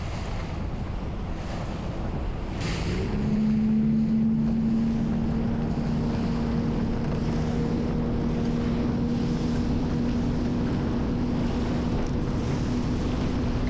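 A Ranger Tug motorboat crossing Lake Michigan on open water gives a steady engine drone with a low hum under constant wind and wave wash, continuous and close, with no voices.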